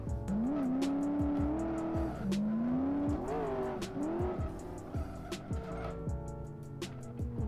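Tires squeal repeatedly as a car in a driving video game brakes hard and skids, with engine whine and rising pitch over several seconds, under steady game sound without talk.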